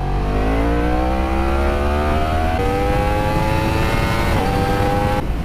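A 2016 Yamaha R1 sport motorcycle engine revs loud and close, pitch climbing steadily through repeated rises with brief dips, continuous and alone with no talking.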